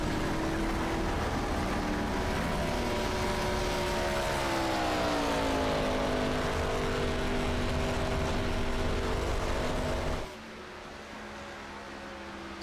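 ARCA stock car lapping Michigan in a racing video game, a loud continuous engine drone whose pitch dips and climbs through the corner before abruptly dropping to a quieter hum near the end.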